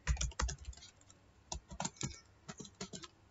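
C code is typed on a computer keyboard, giving quick irregular clusters of soft key clicks with short pauses between bursts, close and quiet, with no talking.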